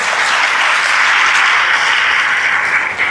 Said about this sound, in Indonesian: teman-teman boleh tepuk tangan dulu dong buat dirinya masing-masing